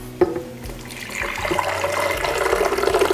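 Hot water poured for an herbal tonic drink, opening with a sharp clink, then a close, rising liquid gurgle that grows fuller as the vessel fills, with no talk.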